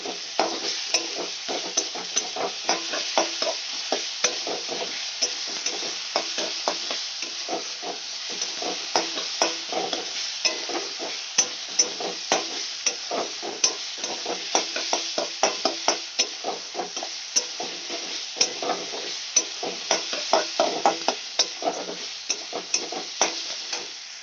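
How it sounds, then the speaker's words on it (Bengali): Onion sautéing in a pan with ginger, garlic and green chili paste, a steady sizzle broken by frequent scraping stirs of a spatula throughout, close and alone. "দিয়ে ভালো করে কষিয়ে নেব যতক্ষণ না এর কাঁচা গন্ধটা চলে যাচ্ছে।"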